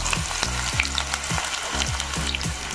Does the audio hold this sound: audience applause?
no